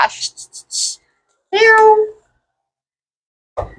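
A cat gives a loud, clear meow up close, preceded by a few short vocal sounds and followed by the start of another.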